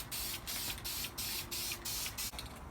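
A spray can of VHT Nightshades tint mists onto a car tail light in short repeated hissing bursts, close and steady, with brief gaps between passes.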